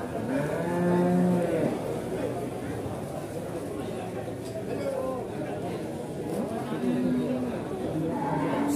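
Jumbo cattle at the busy Pasar Paing livestock market in Pati, Indonesia, low and moo repeatedly, several long drawn-out calls near and farther off, under steady crowd chatter and people talking.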